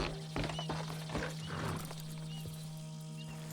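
Horse hooves clatter in an irregular clip-clop with a short whinny from a horse in the Western video game Red Dead Redemption 2, heard over a steady low hum with faint mechanical clicks.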